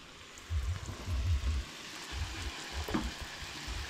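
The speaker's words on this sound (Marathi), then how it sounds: "सो सद्या न्हय तिचे पुरयो फ्राय करप चालू आसा" Puris deep-frying in hot oil, a soft, faint bubbling sizzle with intermittent low rumbling bursts and a few light clicks, heard up close with no one speaking.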